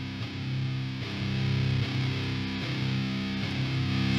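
Electric guitar played through a free VST amp simulator with thick, modern metal distortion, chugging palm-muted riffs in a repeating rhythm, loud and dense, with no talking.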